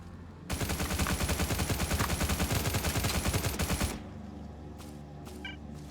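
Rapid automatic gunfire in the video game Stalcraft rattles off in a dense sustained burst for about three and a half seconds, then cuts out, leaving quieter game ambience with a few faint clicks.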